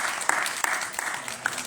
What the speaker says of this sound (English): Can you guys give yourselves a round of applause for being here?